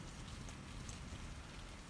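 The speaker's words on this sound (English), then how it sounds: "a random loop of this rain sound that I recorded outside my house" Steady rain falls outside a house, recorded close as a dense, even hiss of drops on surfaces with occasional brighter patters, looped with no pauses and no voices.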